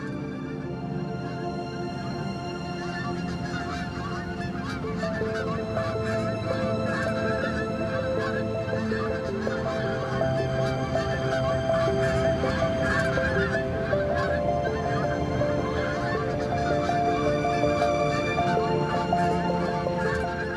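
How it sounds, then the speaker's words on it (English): Wild geese honk in a dense flock during autumn migration, overlapping calls continuing steadily for the full stretch at a fairly loud, constant level with no voices. "Among these travellers are wild geese."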